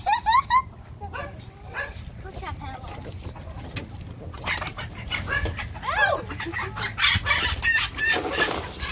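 Backyard chickens cluck and squawk near the microphone while a rooster crows, with short excited calls scattered throughout and people talking in between.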